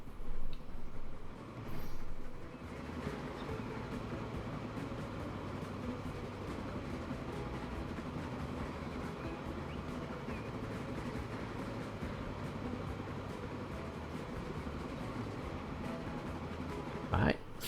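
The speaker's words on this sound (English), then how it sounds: "Let's ride our train, shall we?" A train in the Transport Fever 2 video game runs steadily, a continuous low rumble with faint rail clatter lasting throughout, while a voice talks briefly near the start.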